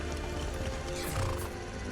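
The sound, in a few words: horse neighing in the video game Skyrim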